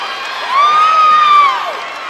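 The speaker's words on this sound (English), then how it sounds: "That brought the Ridgepoint crowd to life." Crowd at a Class 6A high school volleyball playoff match cheering after a point, a loud burst of shouting and whooping that swells in the middle with one shrill whistle-like scream, then eases.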